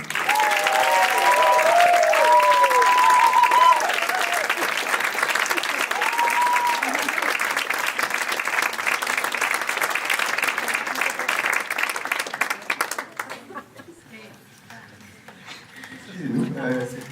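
Audience at a short-film festival evening applauds to welcome the master of ceremonies, loud sustained clapping with a few shouts early on that thins out and stops, leaving faint talk and rustling.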